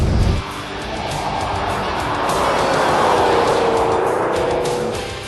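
A 2003 Mercury Marauder drives into a tight corner at Willow Springs race track, its steady, loud engine and road roar holding throughout after a brief louder burst at the start, with no talk heard.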